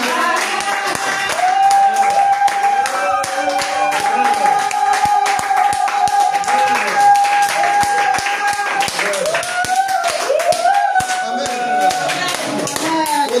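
A church congregation clapping in praise of the Lord, steady rhythmic handclaps continuing throughout while voices sing and call out over them, loud and close.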